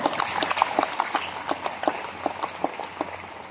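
A crowd claps steadily, many hands at once, with sharp irregular claps standing out over a dense background patter.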